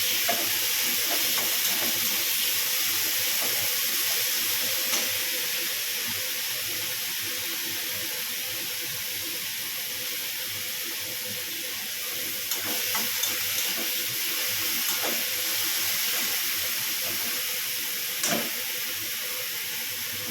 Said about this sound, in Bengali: টমেটো, পেঁয়াজ আর টমেটোটা একটু ভেজে নেব, তাহলে কাঁচা গন্ধটা চলে যাবে।